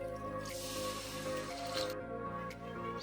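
Water is poured into a pan of spiced vegetable curry made with garlic sev, giving a steady hissing, gurgling pour over a low constant hum, close and moderately quiet.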